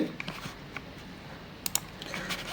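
Typing on a computer keyboard: soft, irregular key clicks, mostly faint, with a brief cluster of sharper taps near the end, over a quiet room background.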